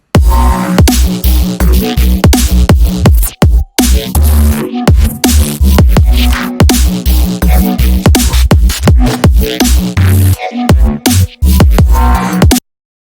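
The second drop of a dense produced electronic track hits loud and full, with layered heavy bass and punchy drums. Brief cuts of near-silence break the groove at a few points, and there is no speech.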